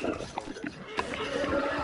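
A horse neighs in the Red Dead Redemption 2 game, a short whinny under gunfire-like thumps and game noise, close and moderately loud with a voice muttering alongside.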